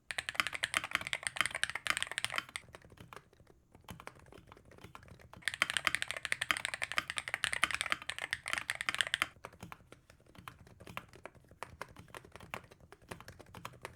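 Typing on a hall effect keyboard fitted with silent switches: dense, soft, muted key clatter in two bursts with quieter stretches between, close and fairly faint, no voices.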